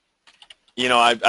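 A few light, quick computer keyboard taps, soft and close, sound briefly before a person begins talking.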